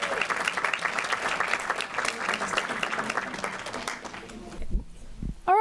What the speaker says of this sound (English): Let's give Rollins another round of applause.